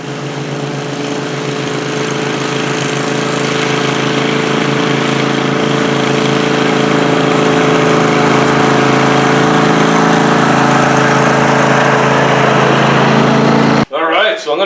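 A Massey Ferguson riding mower engine runs loudly and steadily during a transmission test, a close continuous drone with faint voices underneath, cutting off abruptly near the end.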